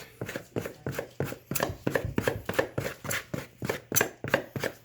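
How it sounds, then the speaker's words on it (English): Rhythmic knife chops as two knives cut butter and Crisco into dumpling dough, a steady series of about a dozen sharp, close taps on a work surface, evenly paced with no talking. "you can take 2 knives, old school, and just cut it up"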